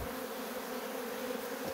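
Dense, continuous buzzing of many honey bees around an open hive being handled by a beekeeper, steady and close with no pauses.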